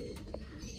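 A large blue Kamagar pigeon, kept in a cage, gives a short, soft coo midway through, with low background rumble and the faint murmur of people nearby.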